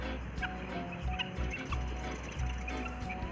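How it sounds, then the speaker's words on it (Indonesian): Guinea fowl call in repeated short bursts at a farm-like tourist park with animal pens, moderately near over a steady low background rumble. "Nah di sana ayam mutiara guys."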